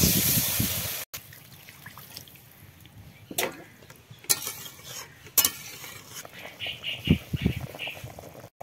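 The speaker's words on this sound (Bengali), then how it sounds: "এখন আমি জল দিয়ে দেবো।" Water poured into a pan of cauliflower and egg curry, a brief splashing pour followed by scattered clinks and stirring scrapes of a utensil against the pan, fairly quiet.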